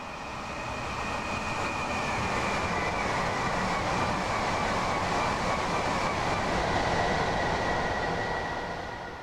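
A train in the Train Sim World game on the East Coastway route rolls along at steady speed, a continuous loud rumble of wheels and running gear with a faint high whine layered on top, with no voices.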